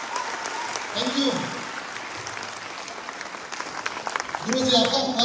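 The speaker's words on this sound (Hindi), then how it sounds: "मैं चाहूंगा आप सभी अपनी जगह से खड़े होकर उनकी के सम्मान में एक जबरदस्त ताली होनी चाहिए" An audience rises from their seats and applauds a respected mentor, a sustained wash of clapping with a voice speaking over it and a louder surge at the end.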